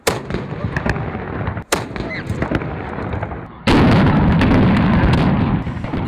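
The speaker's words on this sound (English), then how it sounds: "we just experienced the cannon firings" Cannon firings during Copenhagen's Kulturnatten culture night: sharp, very loud booms crack out at intervals, the last followed by a heavy sustained roar, with crowd noise around.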